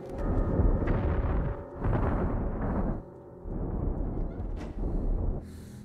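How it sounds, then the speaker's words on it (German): Several booming bursts of explosions from the video game Metro: Last Light follow one another in quick succession, loud and heavy, separated by short quieter gaps. "Man hört schon überall Explosionen."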